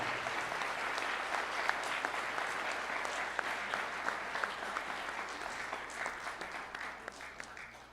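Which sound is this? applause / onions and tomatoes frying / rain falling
applause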